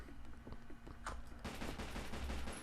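Dual-wielded pistols fire in the Zombie Shooter video game, starting as spaced single shots and turning into a dense, rapid volley, faint and at moderate distance.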